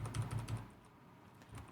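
Someone types an SQL query on a computer keyboard: a quick run of close, quiet key clicks, then a pause and a few more taps.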